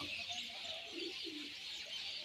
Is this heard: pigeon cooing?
yes